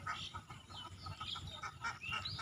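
Ducks on a duck farm quack and chatter in a dense, overlapping flock, moderately distant and fairly quiet, without speech.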